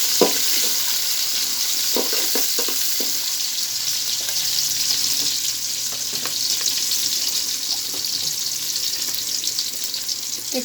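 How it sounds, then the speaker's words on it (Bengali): Sliced onions and green chilies fry in hot oil in a pot, a loud continuous sizzle broken by occasional scraping clicks of stirring. "তেলের মধ্যে পেঁয়াজ কাঁচামরিচ দিয়ে দিচ্ছি।"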